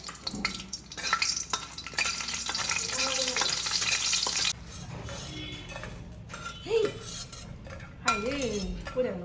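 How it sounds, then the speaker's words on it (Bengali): Dried red chillies crackle and sizzle in hot oil in a wok, with scrapes and clinks of a metal spatula against the pan. Close and moderately loud, with some quieter gaps and brief voice-like sounds. "কড়াইয়ের মধ্যে তেল দিয়ে দিয়েছি আর অনেকগুলো শুকনো লঙ্কা ভেজে নেব"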